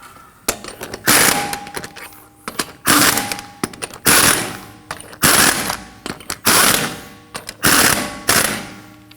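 Impact wrench snugging down wheel nuts in a star pattern on a 2015-2022 Chevrolet Colorado, a series of about seven loud, close rattling bursts, each roughly a second long, separated by short pauses.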